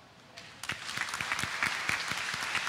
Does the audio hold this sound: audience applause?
yes